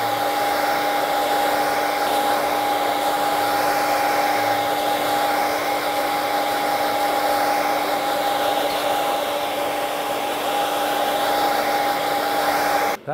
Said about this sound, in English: That's all you have to do with the dryer.